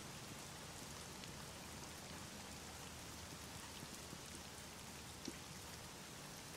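Steady rain falls in The Medium video game, a soft, even hiss of drops on surfaces that continues faintly and uninterrupted with one small tap near the end.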